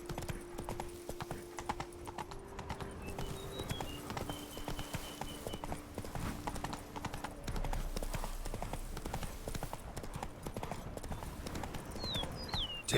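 Roach, the horse in The Witcher 3, trots with a dense, even clip-clop of hooves close by, a faint whinny at one point, and music-like tones drifting underneath throughout.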